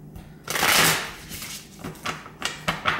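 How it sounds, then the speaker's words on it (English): Cards are riffled and shuffled nearby, a long crisp flutter followed by several shorter snapping riffles as the deck is worked. "Cards don't want to shuffle."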